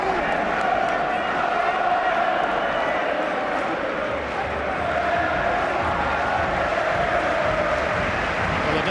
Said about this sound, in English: Fans are cheering their team on now